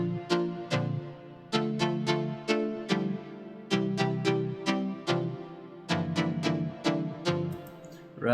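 A two-layer synth lead melody from a second chorus plays plucky, percussive notes with sharp clicky attacks in a steady, repeating phrase, clear and upfront for about eight seconds.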